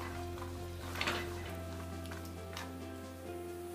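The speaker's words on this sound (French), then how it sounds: "On mélange bien pour qu'ils imprègnent de sauce." Peas and potatoes being stirred into a simmering tagine sauce, with soft scraping and a low sizzle running steadily under a constant background hum, a brief louder scrape near the start.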